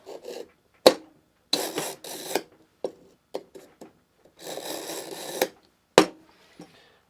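A knife blade drawn several times through a Wüsthof sharpener, giving harsh, raspy scraping strokes in uneven bursts with short pauses and sharp clicks between them, close and fairly loud.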